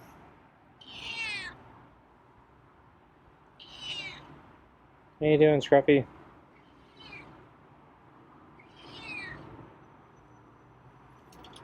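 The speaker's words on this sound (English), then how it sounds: "Oh, he has some nice meows for me." A feral cat meows several times at spaced intervals, fairly close, with a person briefly speaking in between.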